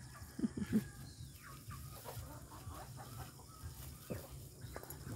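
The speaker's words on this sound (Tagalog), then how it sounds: "May mga manok-manok din silang alaga. manok nila gising." Hens clucking close by in a few quick bursts near the start, then quieter ambient farmyard noise with faint chirps.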